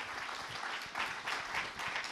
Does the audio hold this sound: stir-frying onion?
no